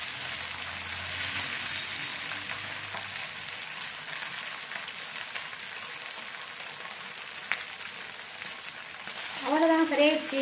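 Fish frying in a pan for a sangaara meen dish, a steady loud hiss and sizzle of hot oil throughout, with a brief utensil clink near the end.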